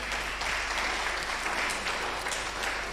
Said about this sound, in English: I think that one first deserves an applause.